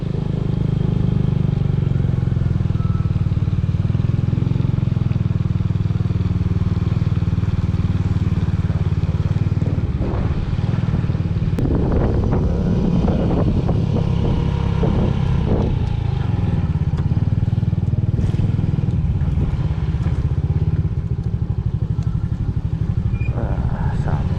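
A Viar Star NX motorcycle engine with raised gear ratio drones steadily and loudly throughout, climbing the mountain road to Tangkuban Perahu, with clattering and mechanical rattles rising in the middle as it labors along.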